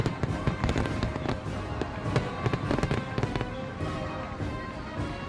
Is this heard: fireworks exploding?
yes